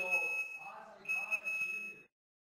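A smoke alarm sounding in a house, a piercing, steady high electronic tone that sounds continuously, breaks off briefly, then resumes before cutting off, with voices talking underneath.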